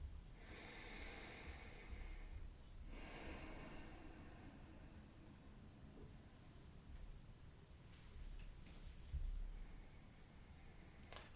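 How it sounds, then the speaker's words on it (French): Slow, soft breathing during a standing power posture exercise, a couple of long airy inhales and exhales near the microphone, faint and alone with no talk. "Encore quelques respirations."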